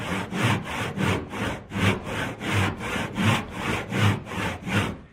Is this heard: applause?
no